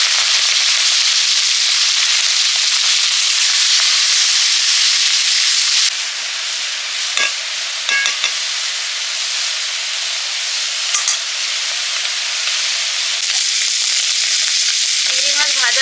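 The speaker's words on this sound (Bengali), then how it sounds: "চিংড়ি মাছ ভেজে নিচ্ছি।" Prawns fry in hot oil in a pan, giving a loud continuous sizzle that eases slightly partway through, with a few clinks and light stirring sounds and no talking.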